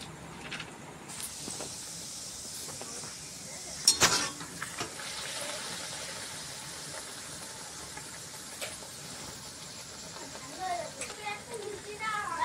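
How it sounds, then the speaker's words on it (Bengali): Food frying in hot oil gives off a faint, steady hiss with occasional light crackles, while voices talk nearby. "গরম গরম ভেজে ভেজে দিচ্ছি"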